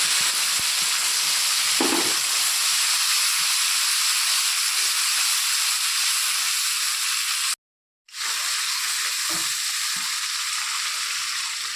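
Bay leaf, whole cumin and spices sizzle steadily in hot oil, a loud continuous hiss broken by a brief cut, with no talking.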